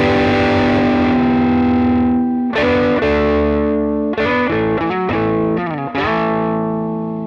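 Electric guitar driven hard through a Drive 57 and Strymon Sunset pedal pair with a touch of reverb: a sustained distorted chord rings out, then a run of choppy, stabbed chords and short riffs with brief gaps between.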